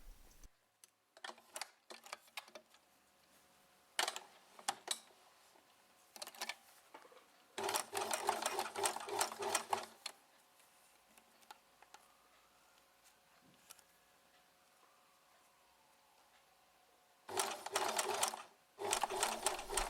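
Sewing machine stitching lace onto a dress bodice, running in several bursts of rapid mechanical stitching separated by pauses, with a longer run in the middle and another near the end, close and clear.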